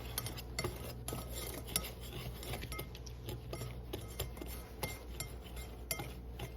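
Hush puppy dry ingredients stirred together in a bowl, a steady quiet scraping with soft clinks of a utensil against the bowl, close and fairly faint with no talking.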